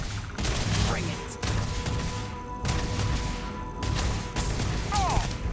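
Gunfire rattles in Starfield, a video game: loud, close bursts of rapid shots come in several volleys separated by brief gaps.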